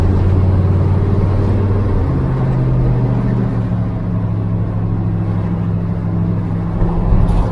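A 1948 Ford F1 custom panel truck driving, its engine droning loud and close, the pitch stepping down as gears shift, with wind noise around it.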